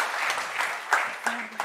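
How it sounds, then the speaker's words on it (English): Short burst of audience applause at a live family event, steady clapping from many hands at moderate volume with voices mixed in. "Y'all go ahead and give these families one more round of applause for coming up"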